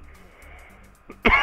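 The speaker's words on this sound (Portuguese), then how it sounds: "eu comecei a espirrar e a tossir de novo" A single sharp cough bursts out near the end after a quiet stretch, close and fairly loud, from someone still recovering from a cold.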